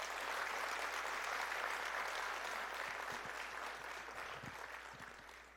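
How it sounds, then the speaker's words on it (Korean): Audience applause follows a lecture at an entrepreneurship concert event: dense, steady clapping from a sizable crowd, sustained throughout and tapering slightly toward the end, with no talking over it. "한 번 더 큰 박수 부탁드립니다."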